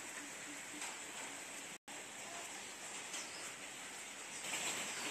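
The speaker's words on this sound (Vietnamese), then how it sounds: "hiện nay thì ở trên em đang mưa rất là to" Heavy rain falls steadily at an orchid nursery, a dense, even hiss throughout with a brief dropout near the start.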